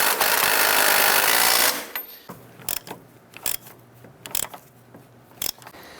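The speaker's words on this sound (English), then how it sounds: "Let's go ahead and tighten up that lower ball joint nut." A lower ball joint nut being tightened on a 2005-2007 Jeep Liberty: a short burst of loud air-tool whirring, then a series of sharp metallic clicks and ratcheting taps at irregular intervals.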